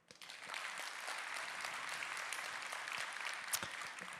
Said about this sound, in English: I'd like you to clap really loudly